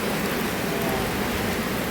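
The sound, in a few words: rain during a storm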